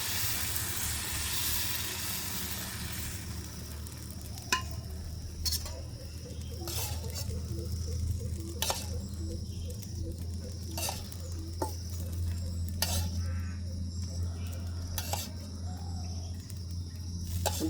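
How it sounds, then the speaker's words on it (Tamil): Egg dosa frying in oil on a hot pan gives a steady, soft sizzle and hiss, with a few sharp metallic clicks of a utensil scattered through it. "எண்ணெயை விட்டு நல்லா பொரிஞ்சு கொண்டு இருக்குது"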